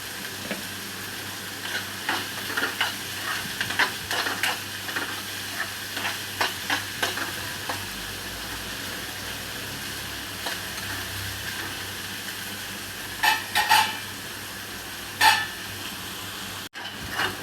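Onion sautéing in a pan over a medium gas flame, a continuous soft sizzle with regular stirring scrapes, some louder clattering strokes near the end.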